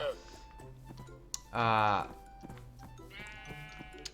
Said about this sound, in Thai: เราก็ได้แกะสีมพูมาจะเป็นที่เรียบร้อยแล้วนะครับ